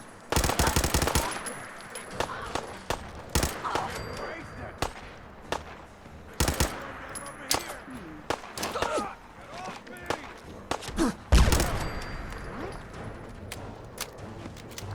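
Rapid bursts of gunfire from the video game Fallout 4, loud and dense with machine-gun rattles and single heavy shots throughout, while players talk and exclaim over the shooting.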